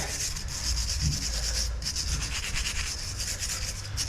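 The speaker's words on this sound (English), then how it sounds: "So we just get a wire brush." A wire brush scrubs rust off a Volvo XC90 brake disc in quick, steady back-and-forth strokes, a close, gritty rasp with a brief pause partway through.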